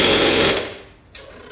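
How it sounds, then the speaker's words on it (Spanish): Impact wrench tightening a bolt on a petrol Audi during outer CV joint work: a short loud rattling burst that dies away, followed by a brief fainter mechanical buzz. "apretamos por delante con la bichola."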